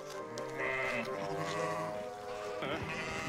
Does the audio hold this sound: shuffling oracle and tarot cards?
no